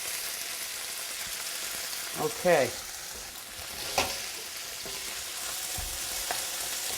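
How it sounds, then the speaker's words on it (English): Nopales cactus sizzling in hot canola oil in a pan, a steady close sizzle with a few stirring scrapes and a brief spoken word. "We're going to put the cactus in"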